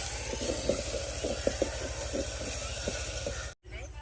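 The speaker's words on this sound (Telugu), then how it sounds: "అల్లం వెల్లుల్లి పేస్ట్ వేసుకొని అలా కలుపుతూ ఉండాలి." Ginger garlic paste frying with onions for village-style chicken dum biryani sizzles under a low hum, with repeated rhythmic stirring clicks before the sound cuts off abruptly near the end.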